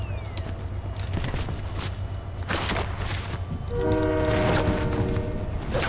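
Train in the Fortnite battle royale game rumbling past under continuous broadband noise, with a steady low hum and a sustained horn-like tone entering in the last two seconds.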